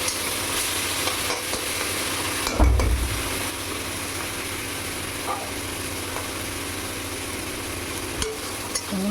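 Prawns fry in a pan with salt and turmeric, giving a steady close sizzle throughout with a brief stirring clatter and a few faint scrapes, no voices.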